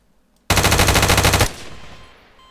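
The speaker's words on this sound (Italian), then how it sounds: "Questo è un Uzi." An Uzi submachine gun fires in Garry's Mod in one loud, rapid, evenly spaced burst of about a second, then a lingering echoing tail fades out.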